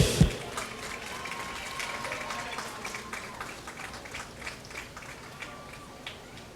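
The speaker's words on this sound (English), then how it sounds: "Let's give them another big round of applause as they exit the field." Audience applause at a 2020 Dothan vs Auburn high school football game, honoring the senior band members as they leave the field: a steady, fairly distant wash of clapping across the stands, with a brief thump at the start.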